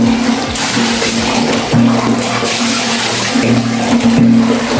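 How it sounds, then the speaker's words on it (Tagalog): Water gushing into a household toilet bowl in a Filipino home bathroom, a steady rushing flow with a low draining hum, close and continuous throughout. "Buhusan natin dito kung napupunod pa rin dyan."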